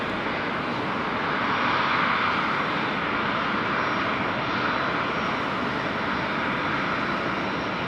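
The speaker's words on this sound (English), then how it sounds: "it's just been given its clearance for takeoff here at 34 left, so we're going to see that one depart now. That's the 777-300 off to Abu Dhabi." Boeing 777-300 jet taking off from runway 34 left at Sydney Airport, a continuous broad engine roar that swells slightly and holds steady at a moderate distance.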